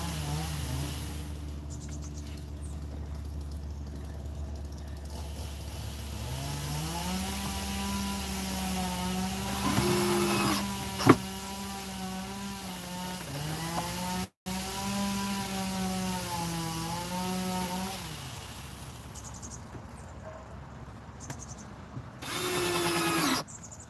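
A power drill drives screws into a kitchen build inside a Ram ProMaster City van, its motor whining up and down in pitch across several bursts with a sharp knock between runs.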